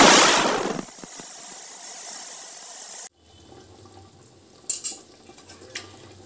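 Water mixed with ginger-garlic paste hits hot oil already holding green cardamom and cinnamon for biryani, raising a loud close burst of sizzling that settles into a steady hiss before cutting off abruptly.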